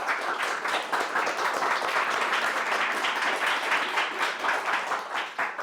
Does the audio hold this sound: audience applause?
yes